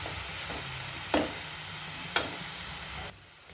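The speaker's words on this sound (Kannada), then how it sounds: "ಇದು ಹಸಿ ವಾಸನೆ ಹೋಗೋ ಮಟ್ಟ ಫ್ರೈ ಮಾಡ್ಬೇಕು ರೀ" Spring onion greens frying in a pan for a Kannada-style palya, a continuous close sizzle with two sharp stirring scrapes, the frying dropping quieter at the end.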